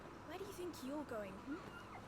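A puppy whimpers in the video game Final Fantasy 16, giving a few soft, rising and falling whines and yips, faint and close, over a quiet background.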